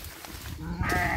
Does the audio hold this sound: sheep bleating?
yes